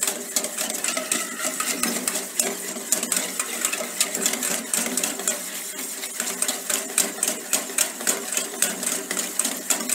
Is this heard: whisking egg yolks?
yes